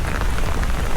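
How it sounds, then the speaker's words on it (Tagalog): Steady rain patters on a surface at Lam Hang Shan, Tin Shui Wai, Hong Kong, a dense hiss of drops with no voices. "Umupan na yung ulan."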